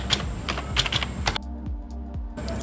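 Rapid clacking keystrokes on a computer keyboard in quick irregular bursts, close and clear, with a brief quieter pause before typing resumes.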